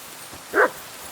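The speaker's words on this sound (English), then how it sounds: "Barking." A single short dog bark in the Kingdom Come Deliverance 2 video game, a brief moderately loud yelp standing out alone against a quiet background.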